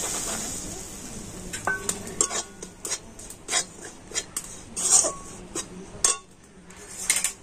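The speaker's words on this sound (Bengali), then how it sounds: "আর এখন আমি এই চালের গুঁড়িটা ঘিয়ের মধ্যে দিয়ে দিচ্ছি।" Rice flour being stirred in ghee in a pan gives a soft continuous sizzle, broken by repeated scraping strokes and clinks of a utensil against the metal. The stirring runs in an irregular rhythm, close up, with no talking.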